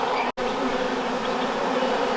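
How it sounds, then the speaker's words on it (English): Honey bees buzz around a horizontal hive in winter, a loud, dense, continuous hum of many bees close by. A brief dropout breaks it near the start. "I just can't believe how many active bees there are."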